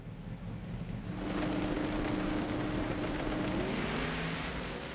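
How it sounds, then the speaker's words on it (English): A twin-turbocharged Ford Mustang and a 1968 Pontiac Firebird drag racing at a Pro Modified event, a loud sustained engine roar that swells after the first second and holds steady, heard from a distance with crowd-like wash beneath. "the Ford Mustang driver is going to fly to the stripe ahead of the Pontiac Firebird"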